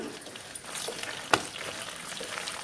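Urad dal, cumin, mustard seeds, curry leaves and dried red chillies sizzle in hot oil as a tempering for gongura dried-shrimp curry. A steady close crackle with one sharp metallic clink partway through.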